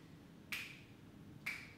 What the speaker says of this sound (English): We'll snap it together, or you can clap, either way.